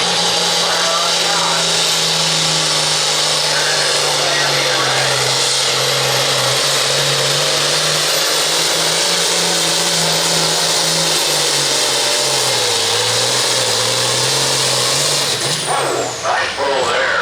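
Pulling tractor engine roaring at full power during a 9,000 lb Pro Farm tractor pull in Bowling Green, Missouri, a loud sustained drone with a steady low tone that shifts slightly in pitch, an announcer talking over it.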